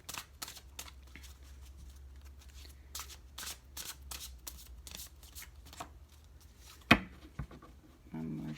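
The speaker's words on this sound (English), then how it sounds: "One more shuffle." Tarot cards being shuffled in a series of short, crisp riffling bursts, fairly quiet and close, with a louder knock near the end and faint talk behind.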